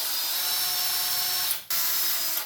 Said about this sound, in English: so we go ahead and pre-drill this